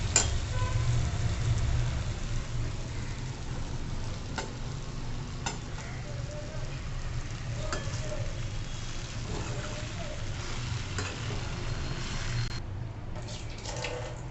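Bread pieces sizzle quietly in a pan of tempered spices for bread upma while a spoon scrapes and stirs now and then, soft clinks punctuating the steady frying hiss.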